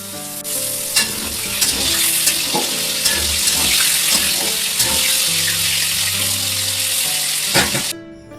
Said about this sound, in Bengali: কড়াইয়ের মধ্যে বসিয়ে দিচ্ছি কাঁকড়গুলোকে ভাজা